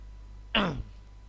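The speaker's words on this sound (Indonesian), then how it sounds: "jadi saya agak batuk" A single short throat-clearing cough from a man at a computer, one brief harsh burst over a quiet room hum with no other speech.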